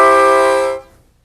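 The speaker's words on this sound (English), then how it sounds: "Bring the harmonica to your mouth and blow." One sustained blown note on a 10-hole C diatonic harmonica, bright and reedy, held for under a second and then fading cleanly away, close and alone.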